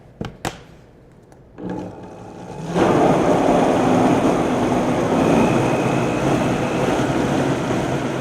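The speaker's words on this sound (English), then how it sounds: "Let's combine this until the mixture has turned into a smooth puree." Blender pureeing homemade ketchup ingredients with xanthan gum: a few clicks and a brief motor start, then a loud, steady whirring roar that holds for several seconds.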